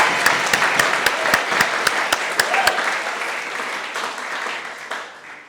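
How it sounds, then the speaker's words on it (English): A graduation audience breaks into loud, sustained applause after a valedictory speech, with sharp individual claps up front that thin and fade toward the end. "a round of applause"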